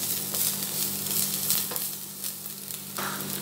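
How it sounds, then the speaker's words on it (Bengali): Chopped ginger and four green chilies sizzle steadily in oil in a pan while being stirred, a continuous close frying hiss with faint scraping and no talk. "এবার একটু নেড়ে নেব।"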